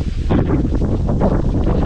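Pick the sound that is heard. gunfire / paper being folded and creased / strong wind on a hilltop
strong wind on a hilltop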